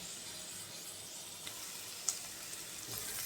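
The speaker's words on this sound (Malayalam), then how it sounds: "പാവക്ക നന്നായി ഫ്രൈ ആയി വരുന്നുണ്ട്, കുറച്ചും കൂടി ഫ്രൈ ആവണം." Bitter gourd frying in oil in a pan: a faint, steady sizzle and hiss, with a few small ticks and a soft clink of stirring.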